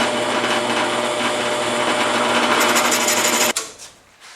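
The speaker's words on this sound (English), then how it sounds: "This should be able to cut through it no problem." A powerful drill press motor whines steadily at high speed as a bit grinds through cedar wood, then cuts off abruptly near the end, leaving a fading rattle.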